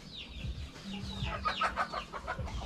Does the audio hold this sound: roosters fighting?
yes